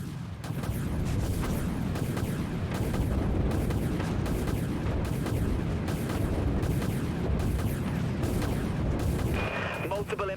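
Missile launches and impacts in a naval warship combat game: a dense, continuous roar of rumbling blasts and booms that stays loud and steady throughout, with a brief higher hiss near the end.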